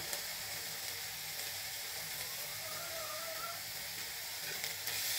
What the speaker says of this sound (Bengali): এই চিংড়ি মাছের খোসাটা আমি একটু হালকা তেলে ভেজে নিচ্ছি